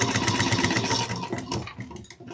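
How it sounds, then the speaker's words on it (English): A sewing machine runs steadily, stitching an eighth-inch seam down the long side edge of a fold-over cross-body bag, a continuous mechanical whir that falters and loosens near the end. "let's stitch this down using 1/8 of an inch down the long edge of the sides"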